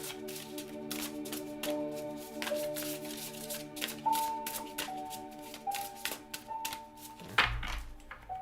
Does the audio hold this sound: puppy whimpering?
no